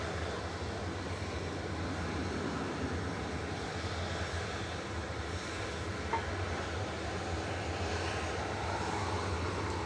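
An airplane at Manchester Airport, heard as a steady, distant broadband engine roar that holds an even level throughout without a clear rise or fall.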